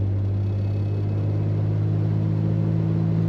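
A 1954 classic car engine drives steadily in second gear approaching a roundabout, a constant low droning hum with strong bass tones, close and loud inside the cabin, with no talk.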